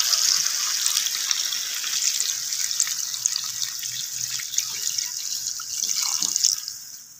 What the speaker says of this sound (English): And then add some water.